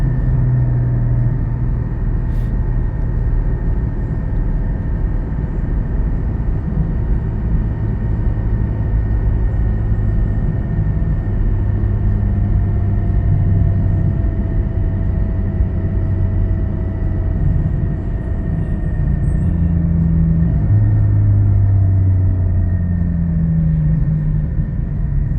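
A car fitted with a Soul Performance V2 exhaust drives steadily, giving a continuous low engine drone and exhaust rumble with road noise from inside the cabin, no voices.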